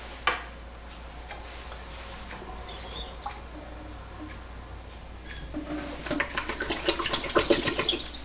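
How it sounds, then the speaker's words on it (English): Water runs into a container as it is rinsed out at a tap, with small ticking clinks at first, then a louder splashing, hissing flow building near the end. "I'll just rinse this out just to make sure I'm ahead of the game"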